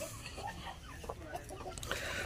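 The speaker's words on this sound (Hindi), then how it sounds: "ये उनकी मदारी मुर्गे फिर रहे हैं माशाल्लाह" Madri Aseel roosters give short, faint clucks amid a noisy farmyard background, with a few quick calls scattered across a brief moment.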